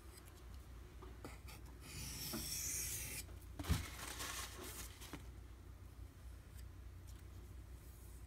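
Boker Kihon D2 knife blade rubbing on a 2500 grit whetstone, heard as a faint, close, steady scraping rasp with a few brief louder strokes and one sharp tap.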